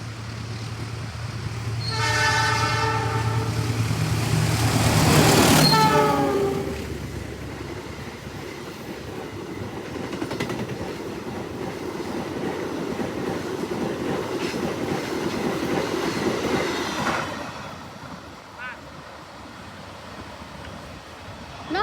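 An Indonesian passenger train, a 2024 Inka-built set hauled by a CC206 locomotive, blasts a loud horn and then rumbles past close by with steady clattering wheels that fade toward the end.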